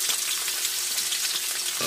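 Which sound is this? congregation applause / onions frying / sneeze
onions frying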